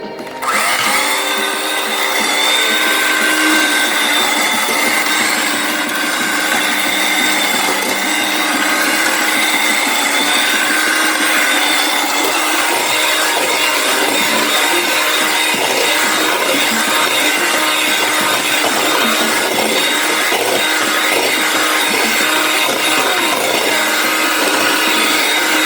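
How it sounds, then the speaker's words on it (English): Hand blender whirring steadily through eggs for a banana walnut cake, a loud continuous motorized buzz with a grinding edge that runs without pause and without speech. "now I'm going to use my hand blender and I'm going to blend them out"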